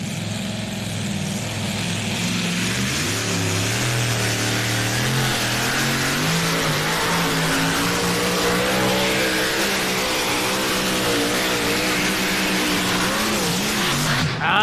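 A pulling tractor's engine roars loudly down the track at a tractor pull, a sustained, heavy drone whose pitch rises and wavers across the whole run, with a faint crowd and an announcer underneath.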